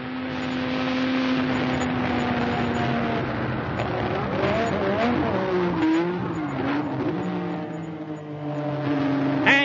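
Race car at the Imola circuit accelerating uphill toward Piratella. The engine note climbs and wavers through gear changes, loud and sustained.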